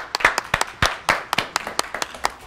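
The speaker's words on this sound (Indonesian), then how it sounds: "Ayo tepuk tangan semuanya bisa." A handful of people clap hands in a short, uneven burst, sharp separate claps close by with no talking.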